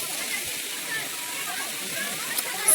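A waterfall at Igatpuri gives a steady, close, hissing rush of falling water that stays even throughout, with people talking faintly nearby.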